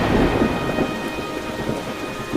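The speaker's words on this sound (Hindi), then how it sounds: "बाहर बहुत तेज बारिश हो रही थी, बिजली भी कड़क रही थी।" Heavy rain pours down steadily with rolls of thunder rumbling through it, a dense, continuous downpour with no voices.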